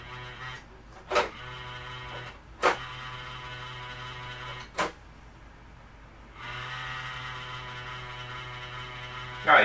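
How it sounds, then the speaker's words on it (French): A cooling fan inside a Coca-Cola mini fridge hums steadily with a low, even drone, broken by a few sharp clicks and knocks and a brief lull before the whir resumes. "C'est le ventilateur."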